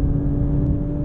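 Steady low rumble of a 2018 Lexus LC500h hybrid engine from inside the cabin on the Monteblanco circuit, a continuous near drone with a fixed hum and no voices.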